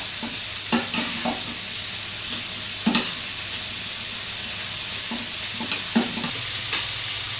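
Butter sizzles in a pan with a steady hiss while something is stirred through it, punctuated by a handful of sharp scrapes and taps of a utensil against the pan, close and clear with no voices.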